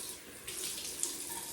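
Small dribbles of water trickle into a tallow-based vetiver shaving soap while building a face lather, a soft close continuous wet splashing with a faint brief drip partway through, no talking.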